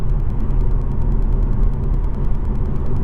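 A Jaguar XE 2.0D R-Sport diesel pulls back on the power along a country road, a continuous low, rumbling engine drone heard from inside at a steady, fairly loud level.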